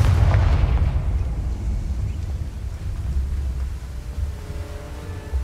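The Confringo blasting spell going off in Hogwarts Legacy, a deep, heavy boom followed by a long rumbling roar that slowly fades, loud and close with no talk.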